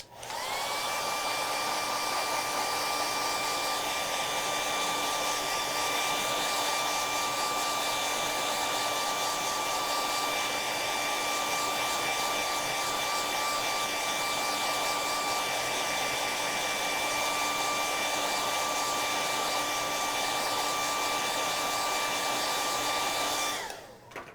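A hair dryer runs steadily for about twenty-four seconds, drying a coat of dark paint on a craft project. The whine stays loud, even and close from start to finish, with no talk over it.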